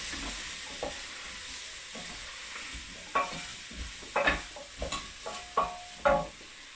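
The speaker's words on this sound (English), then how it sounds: "Now, what I'm going to have to do is stir it again." Cauliflower meal is stirred in a frying pan, a quiet sizzle running beneath a series of distinct scraping and clinking utensil strokes that grow more frequent toward the end.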